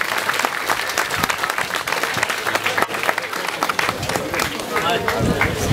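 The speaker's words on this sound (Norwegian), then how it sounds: "stor applaus til dere sjøl, som sang så fint" An audience in Arnøya claps for singers in loud, dense, sustained applause close by, with murmuring voices and chatter mixed in throughout.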